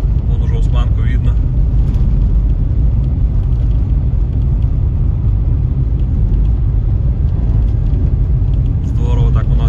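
Passenger car driving on a snow-cleared rural road in Siberia, a steady close engine and tyre rumble under continuous talk.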